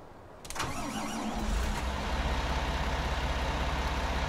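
A tractor in Farming Simulator 19 cranks and fires up after a brief quiet moment, then settles into a loud, steady low rumble that holds to the end.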